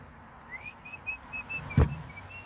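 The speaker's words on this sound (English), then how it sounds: "Whistle." A series of short, evenly spaced whistled notes rises faintly, followed by a brief low thump near the end.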